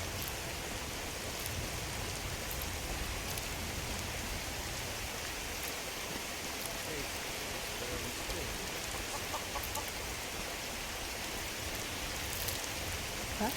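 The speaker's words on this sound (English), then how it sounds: "and it's always raining there." Steady rain in the video game Skyrim hisses continuously at an even level, with faint clucking fowl mixed in the background.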